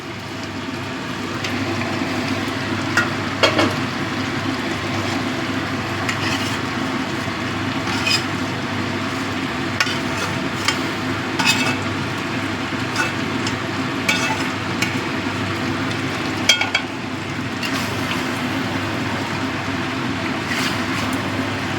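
Chicken cooking in a pan in its own released juices for a dry chicken kosha, with potatoes being added; a steady close sizzle and fry runs throughout with scattered clinks and scrapes of stirring.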